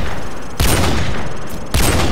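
Two loud bursts of rapid gunfire in Call of Duty 4: Modern Warfare break through a steady background din, each blast dense and punchy, the second arriving after a short lull.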